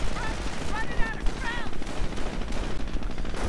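Gunfire crackles through a video game battle with riflemen and grenadiers. Dense, continuous shooting and rumble fill the scene under a steady bed of noise, with faint tonal game sounds briefly rising over it.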